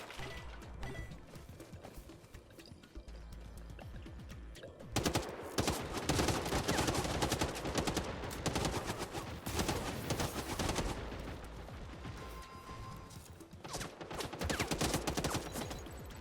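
Rapid automatic gunfire from a weapon in the video game Hawked, a dense continuous burst of shots that sets in sharply and keeps going loud over a steady game soundscape.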